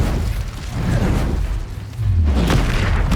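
Expelliarmus spell cast in Hogwarts Legacy, a loud, dense magical whoosh and boom with rumbling low-end bursts that swell and fade over a few seconds.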